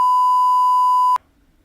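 A single loud, steady censor bleep covers a swear word in a French comedy sketch about teachers and students, holding one pure tone for just over a second before cutting off into near silence.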